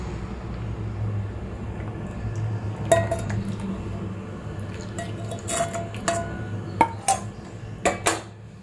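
A semolina, fig, chocolate and syrup mixture is stirred in a pan, heard as soft, close scraping and sticky squishing with scattered metallic clinks of a spoon against the pan.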